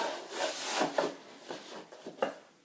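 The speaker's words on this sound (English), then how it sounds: "I just interlocked them together" Timber flooring sheets being slid and interlocked together, a few soft scraping and knocking contacts of wood on wood, fairly quiet and close, with no talking.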